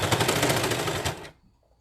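A serger overlock sewing machine stitches a beanie band in a fast, rattling burst of rapid repeated needle strokes, loud and close, lasting just over a second before stopping abruptly.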